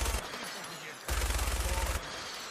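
Fallout 4 gunfire, a steady rattling burst of automatic fire that stops briefly and resumes, loud and continuous against dense background effects.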